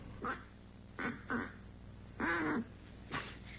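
A duck call sounds in five short quacking blasts, spaced unevenly, the fourth longer and more drawn out, with quiet room tone between.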